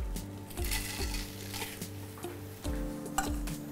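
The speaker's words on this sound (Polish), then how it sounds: "Na patelnię rzucamy granulat." Soy granulate with soy sauce frying in a pan, heard as clattering stirring and scraping against the pan over a faint sizzle, with steady music playing underneath.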